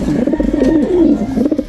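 A low, rolling coo from an ice pigeon on a pigeon farm, a single soft burbling call heard close against a steady low background hum.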